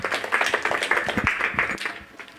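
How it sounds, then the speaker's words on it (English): Audience applause for a health expo speaker on chronic inflammation, a moderate room of clapping with dense overlapping claps throughout, fading toward the end. "I'd like you all to give her a very warm round of applause."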